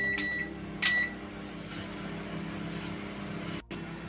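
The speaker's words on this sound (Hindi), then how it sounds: "माइक्रोवेव ने दे दी आवाज" A Panasonic microwave oven hums steadily while running, with two short electronic beeps near the start and a brief dip in the hum just before the end.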